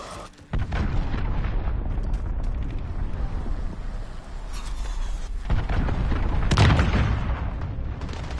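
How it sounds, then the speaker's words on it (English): A cruise missile strike in Modern Warfare hits after a brief quiet start, followed by a long, loud rumbling explosion that sustains with deep roaring debris and a second swell of blast noise near the end. "Allied cruise missile launched."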